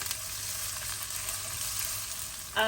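Onion frying in a pan for a Fiji-style chicken giblet curry, a steady soft sizzle holding evenly throughout with a brief louder burst right at the end.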